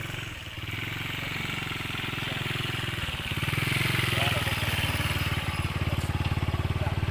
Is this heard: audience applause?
no